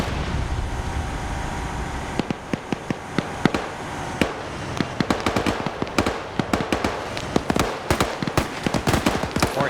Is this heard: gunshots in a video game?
yes